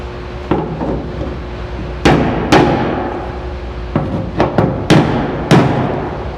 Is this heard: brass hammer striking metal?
yes